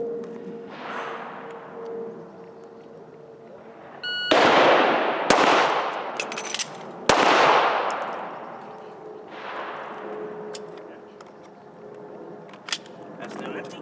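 Several loud, sharp pistol shots from a Smith & Wesson M&P9 crack out and ring off, with a magazine change between them, while a person talks over a steady background hum.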